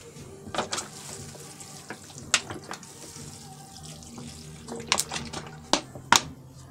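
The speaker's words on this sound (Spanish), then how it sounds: "Les pongo el agüita." Water is poured from a container onto potted garden plants, including a tomato plant, making a steady soft splash with scattered drips and louder spatters, close by and with no talking.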